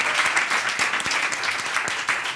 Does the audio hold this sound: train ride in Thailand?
no